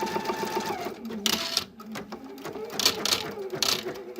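Embroidery machine with a ribbon embroidery attachment stitching steadily, a fast mechanical whir with rhythmic clicks and bursts of higher rattling, close and fairly loud, with a short pause as the unit lowers.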